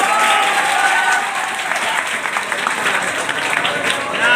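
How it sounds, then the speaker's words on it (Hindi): Audience applause at a gathering of Bihar police sub-inspectors visiting their teacher, sustained dense clapping from a crowd filling the whole stretch, loud and steady with voices mixed in underneath. "ताली बजाओ यार।"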